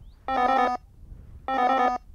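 An AGEone CS carp sounder receiver sounds its bite alarm: two identical electronic beeps, each about half a second long and about a second apart, clear and close over a quiet background.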